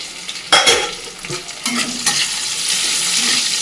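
Cashews and raisins are stirred into hot oil with ginger and green chilli. A close, steady sizzle runs underneath, broken by sharp scraping stirs and clatters in the pan, with no talk.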